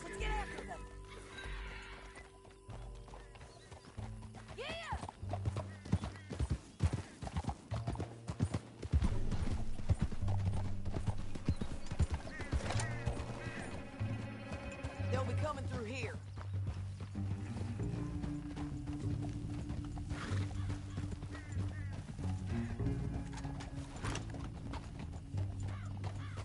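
Horse hooves pound out a rapid clip-clop gallop in Red Dead Redemption 2, with occasional whinnies and clicking tack, running on continuously under people's conversation.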